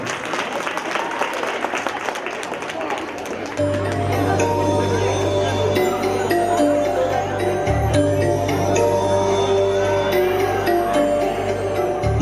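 A school reunion audience claps at the start, a brief burst of applause under a voice, before music with steady singing and instruments takes over for the rest.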